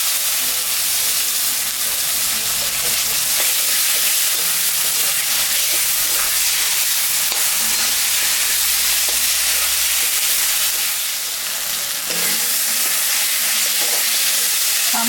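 A paste of onion, cumin and ginger with dried and green chillies fries in a pan for a fish curry. A loud, close, continuous sizzle hisses steadily throughout, with faint stirring and no talking.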